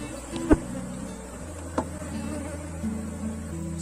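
Honey bees buzz around a hive in a steady, close drone, with a couple of brief knocks against the box.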